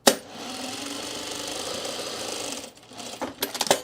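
A sewing machine topstitches a pocket onto men's cargo shorts, whirring steadily and close for nearly three seconds before stopping, followed by a few brief clicks and handling knocks.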